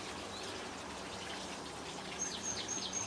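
Freshly sown turnip seeds are watered, giving a faint, steady gush and patter of water on soil, with birds chirping in the background toward the end.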